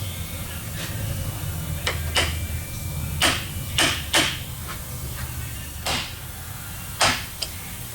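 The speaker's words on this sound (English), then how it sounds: "I'm gonna use a small hammer instead of the normal big one" A small hammer taps the end of a screw on a KTM 65SX dirt bike part, about a dozen sharp, separate metallic clicks spaced unevenly over a low background hum.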